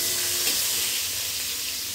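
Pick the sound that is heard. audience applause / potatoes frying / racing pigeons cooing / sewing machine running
potatoes frying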